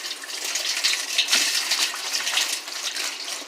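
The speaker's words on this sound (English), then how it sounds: "I'm going to go ahead and rinse it a little bit more in my washer" Water gushes and splashes in a washing machine as it rinses freshly tie-dyed fabric dyed with Rit Dyemore, a continuous hissing flow with small surges, close and fairly loud.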